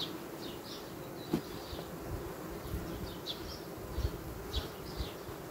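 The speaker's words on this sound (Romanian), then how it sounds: "aici avem albinele cu matcă" Honeybees in a hive colony keep up a steady low drone, with individual bees buzzing past close by now and then, and no talk over it.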